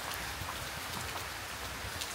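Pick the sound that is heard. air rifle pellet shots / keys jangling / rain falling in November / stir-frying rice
rain falling in November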